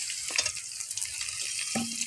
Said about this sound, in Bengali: তাই বেগুন আর আলুটা মশলার সাথে একটু ভালো করে ভেজে নেব